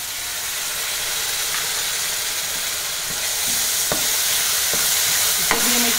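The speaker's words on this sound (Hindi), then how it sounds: "अब हम इसमें जो टमाटर का पेस्ट रखे हुए हैं वो डालेंगे।" Tomato paste sizzles loudly as it is stirred into frying masala for an egg curry, a continuous hissing fry with occasional utensil clicks, close up and without talk.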